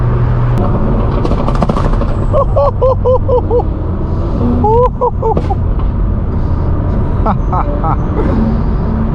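A tuned McLaren supercar's exhaust rumbles loudly and continuously, caught from a nearby car during a street drive, with people talking over the engine noise.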